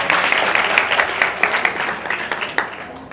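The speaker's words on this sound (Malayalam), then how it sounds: "ഒരു കൈയടി." An audience at an addiction-recovery talk claps for a few seconds, with dense, evenly loud applause that gradually thins toward the end.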